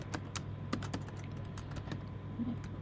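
Code typed on a computer keyboard, quiet irregular key clicks in short clusters over a soft background hum.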